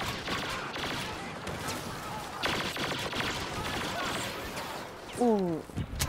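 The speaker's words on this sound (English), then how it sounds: "There's a lot of soldiers. No! Where are they shooting from?" Soldiers' gunfire in a Star Wars video game, bursts of rapid blaster-style shots crackling at moderate level, with brief laser-like zips near the end.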